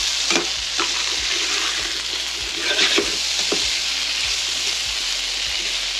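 Potatoes, pepper and garlic frying in butter in a pan give a steady loud sizzle throughout, broken by several soft scraping stirs of a utensil.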